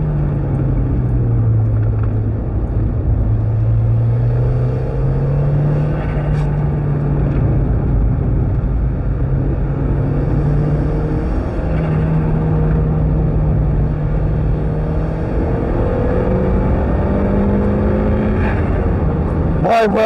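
Turbocharged Mazda MX-5 lapping a wet race circuit, engine droning loud and steady from inside the car, pitch rising and falling with gear changes, with a driver talking now and then over it.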